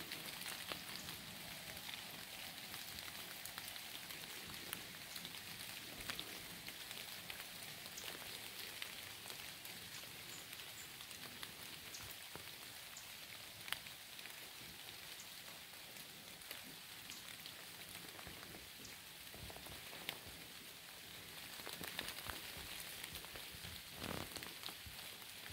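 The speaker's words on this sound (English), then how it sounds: "Been raining all morning." Steady rain falling around a hunting stand during a morning deer hunt, a soft continuous patter of drops on surfaces throughout, faint and even with no voices.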